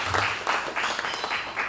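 A studio audience at a Haitian talk show press conference gives a short burst of clapping, dense and close, with a voice briefly audible over it.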